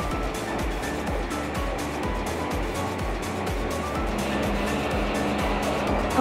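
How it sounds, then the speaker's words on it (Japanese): Steady rumbling roar of a Keisei Skyliner express train at high speed, up to 160 km/h, heard from inside, with rhythmic low thumps and constant broadband noise. "高速走行区間では車内から聞くことのできる走行音"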